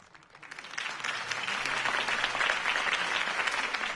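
A video game crowd's applause for a political campaign speech swells up from quiet and holds as a steady wash of clapping, moderately loud and a little distant.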